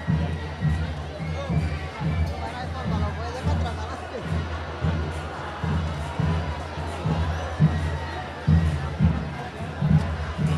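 A dense crowd cheers and shouts continuously in waves at the Rocío pilgrimage procession in Sanlúcar, loud and close, with voices and chatter mixed throughout and rhythmic thumps beneath.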